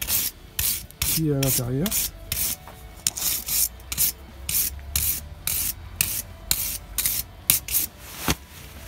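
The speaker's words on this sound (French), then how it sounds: "je vais y mettre un coup de brosse pour enlever toute la merde" A stiff brush scrubs a soaked New Holland tractor part in rapid rhythmic strokes, a close scratchy rubbing repeated throughout, with a brief spoken remark early on.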